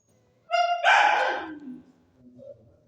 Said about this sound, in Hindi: हमारे घर है एक पुटबिल, तो वो भौंकना शुरू कर देता है, तो उसकी आवाज़ आपको आई होगी